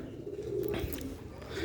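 Red-pearl pigeons coo softly in a cage, a faint, low, rolling call that repeats a couple of times, with a little rustling around it.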